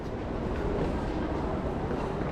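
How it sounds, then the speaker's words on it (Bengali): A train rumbles steadily inside Westminster underground station, a dense, continuous roar filling the platform with no pauses. "এখানে একটা ট্রেন দাঁড়িয়ে আছে"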